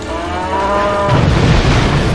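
A cow in the kart racing game Crash Tag Team Racing lets out a loud, close, drawn-out moo that breaks into a rumbling crash-like boom.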